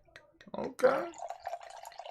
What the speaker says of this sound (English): We're gonna see how it pours.